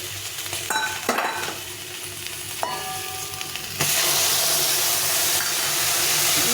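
Ground ginger, cumin and chilli paste sautéing in a pan for singi-magur fish curry, with steady close sizzling and occasional stirring scrapes, growing into a louder, hissing fry after water is added partway through.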